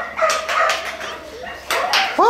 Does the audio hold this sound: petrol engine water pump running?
no